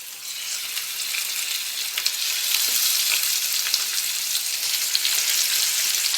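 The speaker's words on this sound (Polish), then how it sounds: "temperatura oliwy jest odpowiednia do smażenia kurczaka" Steady, loud sizzling of skin-side-down chicken frying in hot olive oil in a pan, a dense crackling hiss with small pops throughout and no voices.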